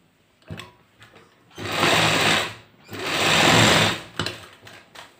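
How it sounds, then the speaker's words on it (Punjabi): A sewing machine runs in two sustained bursts while stitching a pajama pocket, loud and close, with brief pauses and small clicks between the runs. "ਪਹਿਲਾਂ ਆਪਾਂ ਇੱਥੋਂ ਤੋਂ ਇੱਥੇ ਤੱਕ ਸਲਾਈ ਲਗਾਉਣੀ ਆ"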